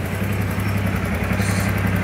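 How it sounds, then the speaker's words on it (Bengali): A TVS Apache RTR 150 motorcycle engine runs with a steady, close, throbbing drone and a fine mechanical clatter, with no voices over it. "দেখুন ফ্রি অ্যাক্সিলারেটর সাউন্ড"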